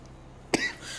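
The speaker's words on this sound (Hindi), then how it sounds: "ये अचानक तुम्हें खांसी क्यों हो गई?" A single sharp cough bursts out mid-clip amid quiet room tone, followed by a brief breathy rasp as the throat settles.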